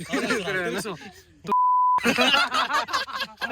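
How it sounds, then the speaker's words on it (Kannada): A single steady censor beep, about half a second long, cuts into lively speech and laughter, replacing a spoken name. "ನನ್ನ ಹೆಸರು ಹೇಳಕ್ ಅವ್ನು ಬೀಪ್ ಹಾಕ್ಬೇಕು"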